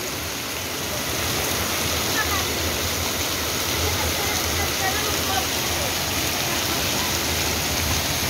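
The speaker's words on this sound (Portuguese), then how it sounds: "Muita chuva em Águas Vermelhas, dia 16," Heavy rain pours at night in Águas Vermelhas, Minas Gerais, during a storm, a dense, constant hiss, loud and unbroken throughout, like water rushing down onto hard ground.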